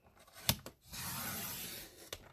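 Scissors snip through cardstock being trimmed to size for a handmade garden card, a couple of sharp close cuts around a longer rasping slice, quiet and alone with no talking.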